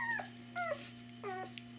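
A young puppy in a whelping box whimpers three times, each a thin, high, wavering cry that slides downward, close by over a low electrical hum, with no talking.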